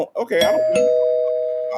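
A household doorbell chimes once, a bright sustained ding ringing out and slowly fading, right after a brief snatch of a voice.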